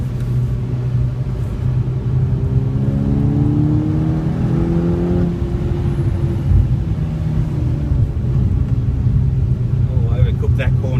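A car lapping the Nurburgring, its engine rumbling steadily and loud throughout with rising and falling revs through corners, under continuous road and wind noise.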